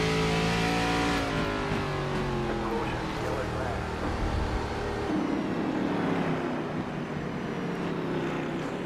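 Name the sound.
race car engine from a racing video game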